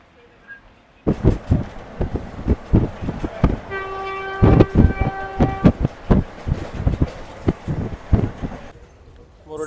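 A passenger train pulls away from Chitrapura halt: loud, close wheel clatter in an uneven rhythm, broken by a sustained horn blast midway.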